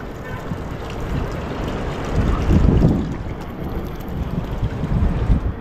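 A small outboard boat on open water runs a four-piston Mazda RF engine, giving a continuous low rumble mixed with heavy wind buffeting and water noise, growing louder in the middle.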